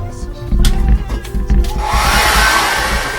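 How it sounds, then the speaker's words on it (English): A handheld hair dryer blows over wet acrylic paint, starting after some nearby handling knocks and settling into a loud, steady rushing whir. "I'm just going to dry that with a hairdryer"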